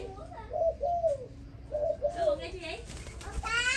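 A Malaysian spotted dove coos in a few soft, rounded notes at moderate distance, while a person talks quietly under it and background noise rises toward the end.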